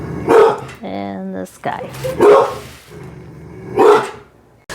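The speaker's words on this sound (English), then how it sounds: "My pupper is heading outside. He wanted to bark quite a bit." A pet dog barks loudly and close by in the evening, three sharp barks spaced about two seconds apart, with a person speaking briefly between them.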